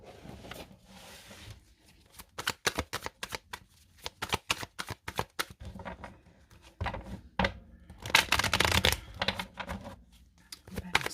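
Tarot cards are shuffled and cut by hand in a quiet room: bursts of crisp riffling and sharp slapping clicks in quick irregular runs, with brief pauses and a louder, denser flurry near the end.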